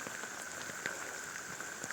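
Steady rain falling outdoors on a hillside trail while a Poco Xiaomi 13T phone is tested in the wet, a soft continuous patter with scattered brief drop ticks and no voices.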